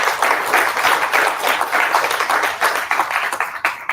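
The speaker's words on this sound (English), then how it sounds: "Let's give the panel a round of applause" A live audience applauds a panel at a public AI listening session, loud, dense clapping with individual hand claps audible, sustained for several seconds and tapering slightly at the end.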